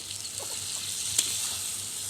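Puti fish fry in a pan with a constant bright hiss of sizzling oil, while faint, light stirring taps sound now and then.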